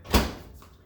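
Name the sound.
microwave oven door being opened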